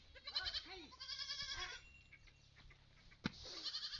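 Goats bleating in a series of wavering cries, a few close and fairly clear, with a sharp knock midway and quiet farmyard background between calls.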